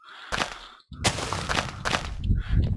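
A multi-fire cannon in Minecraft fires a rapid series of sharp, booming blasts, several explosions crowding close together with a steady rumble between them.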